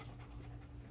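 A dog panting close by in steady quick breaths, faint and continuous over a low background rumble.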